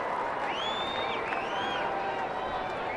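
Baseball stadium crowd cheering at an Arizona home game against San Francisco, a steady roar of many distant voices, with whistles rising and falling above it.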